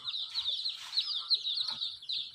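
Close, busy clucking and chirping from Sonali chicks, a rapid chattering of bird calls that rises and falls without pause.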